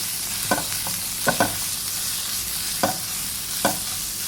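Minced pork stir-fried in a hot pan, a constant loud sizzle with several sharp scrapes and clacks of a spatula at irregular intervals.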